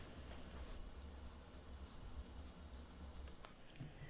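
A fountain pen scratches across the paper of a Hobonichi Cousin planner in faint, close, irregular strokes against a quiet room hiss.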